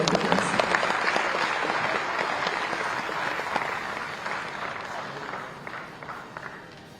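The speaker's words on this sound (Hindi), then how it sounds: "एक बार जोरदार ताली की आवाज आप सभी लोगों की तरफ से।" An audience at a World Standards Day event in Raipur attended by the chief minister claps together, a dense, loud applause that holds strong and then gradually tapers off.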